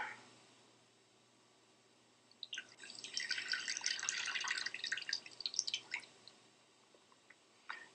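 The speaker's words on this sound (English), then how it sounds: "pour off that water." Water being poured off freshly churned butter in a kitchen, a steady splashing, trickling pour that starts partway through, runs for a few seconds and then tapers off, fairly close and alone without talk.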